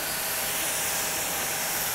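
A foam gun sprays onto a car during maintenance detailing, a steady, loud, close hiss of spraying foam and water that runs unbroken from start to finish.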